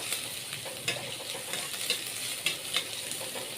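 Green chillies sizzle softly in a pan while they are stirred, for poha. A spatula makes small scraping clicks at a fairly regular pace over the quiet, steady frying hiss, and no one talks.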